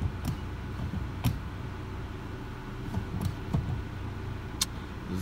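A car driving along the road on a test drive after a brake pad, rotor and oil change, with a steady low engine and road hum and a few faint ticks and clicks.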